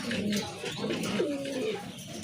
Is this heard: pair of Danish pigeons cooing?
yes